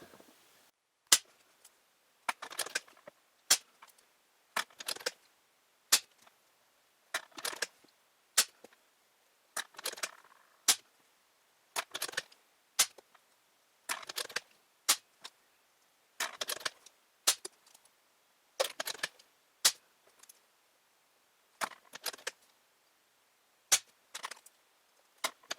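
A Benjamin Akela air rifle fires a full magazine, about twenty sharp, close shots at irregular intervals of roughly one second, each crack followed by a quick metallic click of the action cycling, with no talk.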